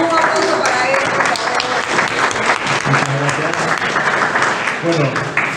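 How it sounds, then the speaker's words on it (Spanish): Loud, dense audience applause fills the room for a lawyer being introduced at a formal talk, steady and sustained throughout with voices faintly mixed in. "Y damos un aplauso para él"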